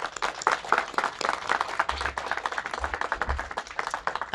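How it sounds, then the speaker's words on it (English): Applause from a modest outdoor crowd at a tiny-homes village grand opening press briefing, with individual claps distinct and uneven and a few low thumps of wind or handling noise. "I think that deserves a round of applause"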